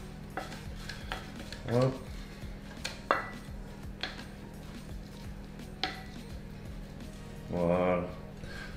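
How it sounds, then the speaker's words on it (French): A spoon stirs bananas and fromage blanc into oat flakes in a dish, with soft scraping and tapping strokes over a low hum, and brief speech between the strokes. "pour incorporer les bananes et le fromage blanc au flocon d'avoine"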